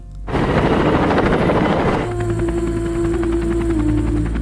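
A helicopter in an action film about special forces escaping the Taliban, its rotor chopping loud and steady throughout, with the engine tone shifting midway as a lower whine comes in.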